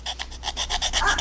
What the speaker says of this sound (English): I'll just take a little file here.